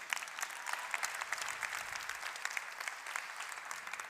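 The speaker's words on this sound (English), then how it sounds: "Give yourselves a big round of applause" A roomful of people clap steadily at a network marketing training seminar, a continuous patter of applause of moderate loudness heard from a little distance.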